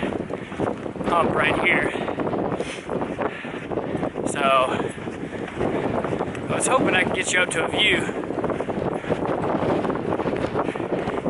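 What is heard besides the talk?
strong wind on microphone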